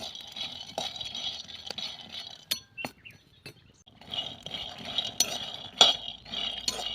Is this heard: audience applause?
no